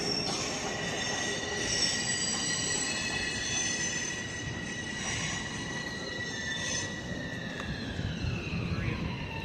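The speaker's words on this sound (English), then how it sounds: "This is a New Jersey path train." A New Jersey PATH train runs past near the High Line in New York City, its wheels squealing loudly and steadily in high sustained tones over a constant rumble for the whole stretch.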